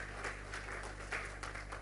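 A church congregation claps during an Easter sermon, a steady mass of hands with slight swells, heard over a low electrical hum from the hall's sound system.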